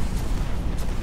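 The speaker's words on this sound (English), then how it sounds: "I hit him with a good grenade there" A grenade detonates in the Destiny shooter, one short, loud, close boom with a deep rumbling body that lasts about a second, alone with no talk.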